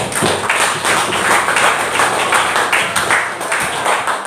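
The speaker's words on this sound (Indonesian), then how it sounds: "tepuk tangan untuk kelompok yang benar" Students in a classroom clap for a group that gave the right answer, a dense, continuous patter of many hands lasting several seconds at close range.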